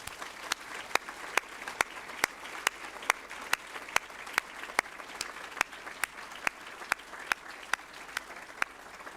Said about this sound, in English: Can we recognize these wonderful, special people with a round of applause?